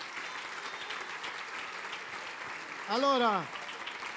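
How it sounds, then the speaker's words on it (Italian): Brief applause for Sofia, a six-year-old girl at her first bicycle race, during an evening awards event; faint scattered clapping under a rising-and-falling voice, with someone speaking briefly. "Applauso per Sofia."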